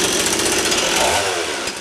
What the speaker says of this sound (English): Our next task is to cut two more bore-in cuts